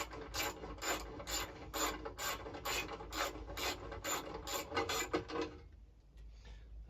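A ratchet wrench turns 10mm bolts in rapid repeated clicking bursts, close and steady for about five seconds, then stops, leaving quieter background.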